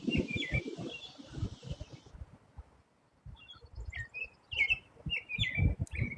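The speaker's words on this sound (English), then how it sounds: "you suddenly hear the birds. Can you hear them?" Birds singing outside, several short bright chirps and twittering calls at moderate distance, heard beneath and between a person talking quietly, with a brief lull near the middle.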